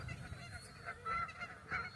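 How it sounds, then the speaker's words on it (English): Several geese honk on the ground, greeting other geese, in a noisy, overlapping chorus of nasal calls that swell in short bursts at moderate distance, with low background rumble beneath. "That's the noise they made before they took off, but now they're greeting fellow geese."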